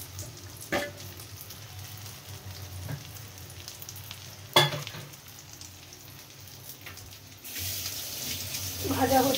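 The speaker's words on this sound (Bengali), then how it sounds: "ভাজা হচ্ছে, সুন্দর একটা ফ্লেভার পাচ্ছি।" An egg-based evening snack frying in a pan in a home kitchen, a steady sizzle with occasional clatters and bumps, growing louder and brighter near the end.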